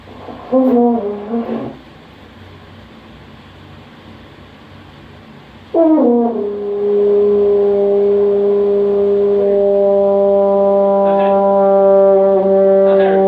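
A horn sounds a brief note, then after a pause holds a long, steady, rich brass note with the first valve pressed, close and loud in a quiet room.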